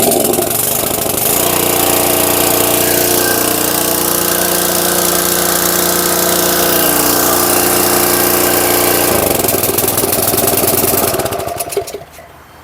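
A small pressure washer engine fitted with a new carburetor runs loud and close with a steady droning rumble that shifts in pitch partway through, then cuts off near the end.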